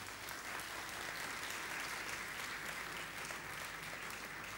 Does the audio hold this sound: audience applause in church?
yes